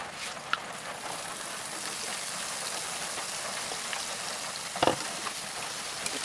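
Onions and garlic fry in a pan with a steady, bright crackling hiss, broken by a single sharp clatter near the end.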